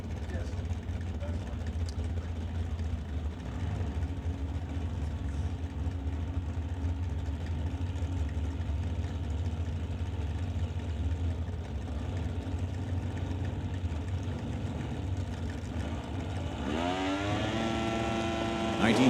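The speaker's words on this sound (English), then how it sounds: "Here comes John Bushinsky and Bruce Flodine. Bruce driving the 95 Dakota." A 1995 Dodge Dakota drag racing truck's engine at the strip, a loud continuous idling rumble under a commentator's talk, then the revs climbing sharply near the end.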